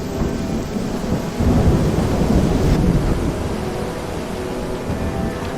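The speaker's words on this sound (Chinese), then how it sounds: "下暴雨了，上游河水涨得快，" Heavy rainstorm with rolling thunder, a dense steady roar of rain at the edge of a river that swells upstream from a newly built irrigation channel, with deep rumbles building louder partway through and no voices.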